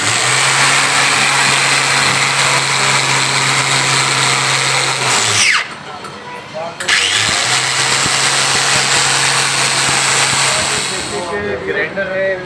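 A grinder fitted with a cleaning brush works on a motorcycle cylinder head in a Karachi workshop, giving a loud, steady whine that cuts out briefly and then restarts.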